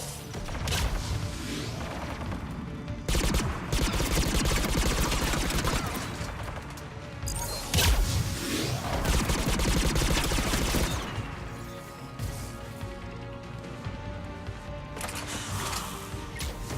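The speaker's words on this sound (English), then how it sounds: "Guess we're opening fire." Sustained bursts of rapid gunfire and heavy booms in a Mass Effect 3 battle on Rannoch, loud and dense throughout with brief lulls between volleys.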